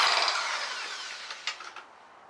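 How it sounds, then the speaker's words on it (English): A DeWalt power drill during an engine head rebuild on a 7MGE spins down in a high whirring tone that fades over about two seconds, with a few light knocks near the end, close by and without talk. "You see me rolling with my DeWalt drill."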